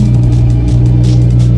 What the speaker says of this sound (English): There's our cold start.